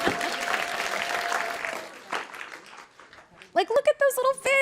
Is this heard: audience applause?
yes